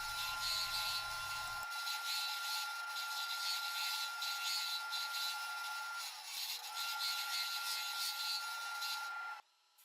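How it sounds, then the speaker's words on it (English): A wood lathe turns a tiny double bowl while a Hunter small tapered straight tool shapes it. The cutting makes a continuous, steady hiss and scrape with a faint hum behind it, and the sound stops near the end. "I continue to refine the shape of the micro double dizzy bowl using the Hunter small tapered straight tool."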